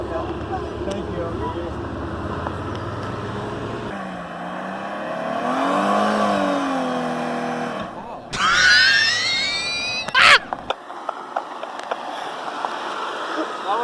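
A Ranger utility vehicle's engine revs to about 4,500 RPM and drops into gear with a click. A steady rising drone gives way to a sharp high whine, then scattered clicks and knocks as it rolls. Voices are heard.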